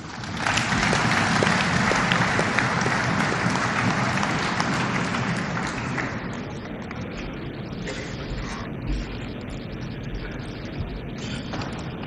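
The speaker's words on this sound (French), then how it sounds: "Je souhaite que lui-même prenne la parole sous vos applaudissements." Sustained audience applause at a justice-system orientation speech in a formal hall, loud and dense for about six seconds before thinning into scattered claps and murmurs.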